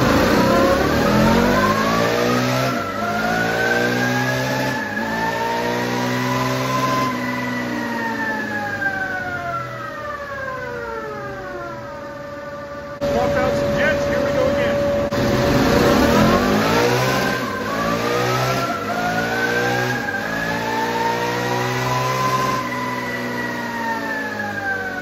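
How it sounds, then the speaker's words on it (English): Stock Can-Am DS650 ATV engine fitted with a high-compression piston, revving repeatedly on a dyno: loud rising and falling engine sweeps with a steady mid-range idle between pulls, close and continuous throughout. "got a Can-Am DS650 on the dyno with a high compression piston in it"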